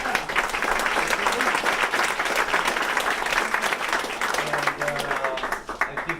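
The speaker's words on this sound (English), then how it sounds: "I think second applause is in order" An audience at a service gives sustained, dense applause lasting about six seconds, many hands clapping at once and staying loud before thinning slightly at the end.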